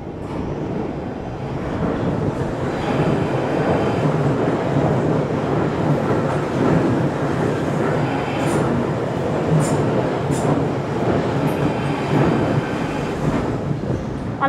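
A London Underground train runs steadily past on the track, a loud continuous rumble with rail rattle and occasional high wheel squeals, heard close and alone for the whole stretch.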